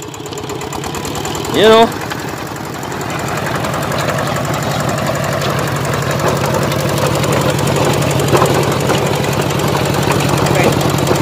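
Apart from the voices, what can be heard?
Kubota K-900 tractor engine running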